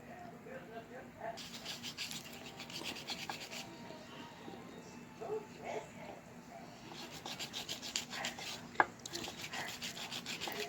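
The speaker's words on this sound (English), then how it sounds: "Just sanding and polishing up the sides." Repeated scratchy sanding strokes in short bursts, rubbing close up against the sides of a small hard polymer clay pendant, with quiet pauses between.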